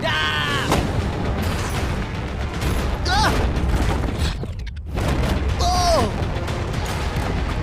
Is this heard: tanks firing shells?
yes